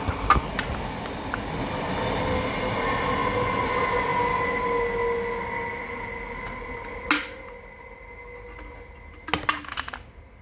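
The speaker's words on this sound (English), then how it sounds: "Another train." A train passes with a sustained rolling rumble and faint metallic squeal that swells and then fades, ending in a few sharp clanks and clicks, with no talk.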